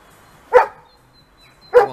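Two sharp, loud dog barks, close by, spaced about a second apart with quiet in between.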